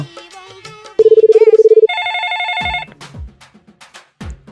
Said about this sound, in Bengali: ফোন দিছে বাড়ি থেকে রিসিভ করি